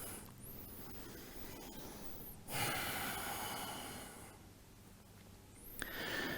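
Slow, audible breathing during a vinyasa yoga flow: long airy inhales and exhales, one swelling strongly near the middle with a sharp snort-like catch, close and quiet without speech.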